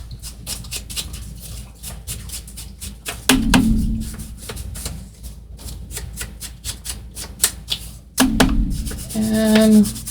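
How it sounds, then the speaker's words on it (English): Dry scraping and rubbing of paper edges being distressed for a vintage train ticket craft project, a steady close rhythm of short strokes with a couple of heavier scuffs, no talking. "on this side, I'm going to distress the edges. Give it a good distressing as well. Grunge it up a bit."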